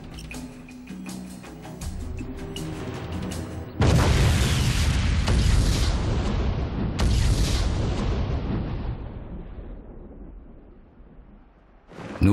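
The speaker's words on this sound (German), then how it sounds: "Nur 50 Kilogramm Schwarzpulver führen zu einer gewaltigen Explosion." A 50-kilogram charge of black powder buried in the ground and fired electrically detonates with a massive, deep boom that rolls on and fades slowly, following a stretch of lower-level rumbling and preceding a second loud surge mid-clip.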